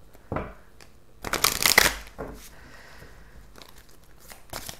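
Tarot deck being shuffled by hand, a couple of short riffling bursts with crisp card flutter and a softer shuffle afterward, close and fairly quiet.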